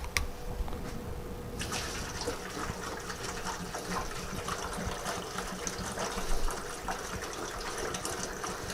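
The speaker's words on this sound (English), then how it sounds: "I'm going to go ahead and put my grape juice into my fermenting bucket." A gallon of grape juice poured into a fermenting bucket for a frozen berry blend brandy, a steady continuous gush of liquid running close by for several seconds without talk.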